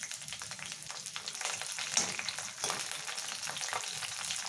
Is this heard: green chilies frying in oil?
yes